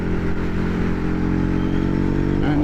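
A Ducati Hypermotard 821 fitted with a Healtech quickshifter and Rapid Bike tuner runs loud and steady, its engine drone holding for a few seconds with a brief shift in tone near the end, and no voices.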